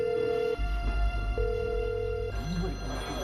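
A telephone rings inside a prison, two long steady electronic tones separated by a pause, fairly clear over a low background hum, with some faint clatter after the second ring.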